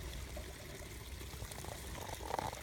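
A spring-fed stream that stays unfrozen in cold weather runs with a soft, steady trickle and gurgle, faint and continuous with no voices.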